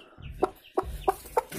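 A hen clucks in four short, regular calls, close and clear over low background rumble.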